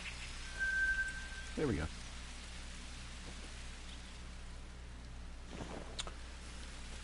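Steady rain hissing across the Mississippi map of the hunting game Call of the Wild, a soft continuous wash with a few brief louder sounds and a short spoken phrase over it.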